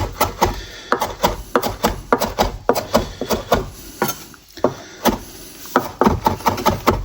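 A knife finely chops vegetables for Brazilian vinagrete salsa on a board, rapid rhythmic knocks close by in quick bursts, with a brief pause midway before the chopping resumes.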